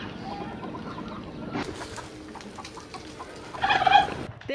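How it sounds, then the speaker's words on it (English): Turkey gobbling somewhere at a stop along the China-Myanmar border, with scattered fowl calls under a steady murmur and a louder, rattling burst of gobbling near the end. "There is a turkey in there."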